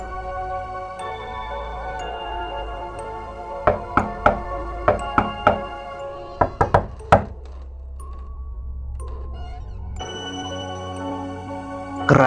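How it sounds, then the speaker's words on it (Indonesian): Loud knocking on a bedroom window from outside at night comes as two bursts of sharp, hard raps, roughly six evenly spaced then a quicker cluster, over soft background music. "Keras sekali suara ketukan jendela dari luar kamarku."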